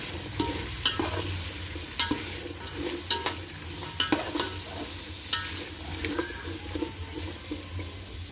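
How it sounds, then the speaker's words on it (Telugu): Spatula stirring potato, green peas and sweet corn with chilli in a hot pan for veg paneer biryani, giving a steady sizzle broken by repeated scraping strokes, close and fairly loud. "ఆలుగడ్డ, పచ్చి బఠానీ, స్వీట్ కార్న్ బాగా కలిపేసుకోండి."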